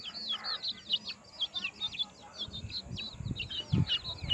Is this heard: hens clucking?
yes